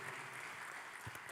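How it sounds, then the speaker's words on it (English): Audience applause at a pension summit after a presenter's talk, a brief steady patter of clapping filling the room. "Patrick, let's give him a round of applause."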